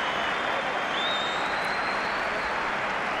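A Real Zaragoza football crowd applauds substituted player Nicolás Bertolo as he leaves the pitch: a broad, steady roar of stadium clapping, loud and unbroken throughout.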